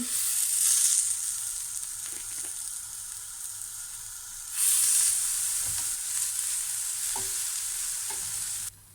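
Shrimp sizzling in sunflower oil on a grill pan, a steady bright crackling hiss that swells loudly twice with the shrimp going in, then holds, with a few light scrapes and taps before it cuts off.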